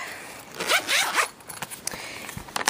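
A purple fabric pencil case being unzipped, a close, scratchy zipper run of about two seconds followed by softer handling rustles.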